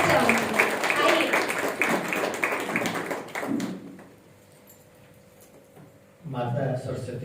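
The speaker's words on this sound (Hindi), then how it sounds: "स्वागत हेतु जोरदार तालियां मैं आपसे हर बार चाहूंगी।" Audience applause greets a speaker at a Hindi literary event, a dense burst of many hands clapping for several seconds that cuts off into near silence, then loud clapping starts up again.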